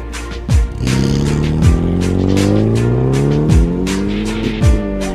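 A car speeds along the N69 road, its engine loud and close, with rising revs, repeated gear changes and the occasional thump, all without any talk.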